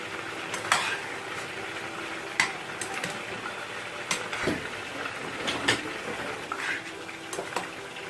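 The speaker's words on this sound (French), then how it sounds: "Voilà, je vais retourner ma marmite." Spinach in a cooking pot being stirred and turned over, with soft scraping, clinking and light sizzling in irregular bursts, close and moderate in level, no talk.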